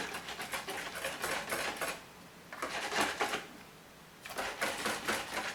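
Melted Marseille soap being stirred in a pot produces repeated bursts of rapid scraping and clacking, three rhythmic spells separated by short pauses, close and moderately loud.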